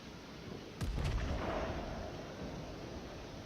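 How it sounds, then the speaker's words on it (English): Warship guns firing in World of Warships: a deep booming salvo of two or three close blasts, followed by a long rumbling decay under ongoing low ambience. "I'm able to land a shell or two every time I fire off one gun."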